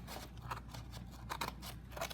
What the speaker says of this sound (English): I'm going to go ahead and cut this apart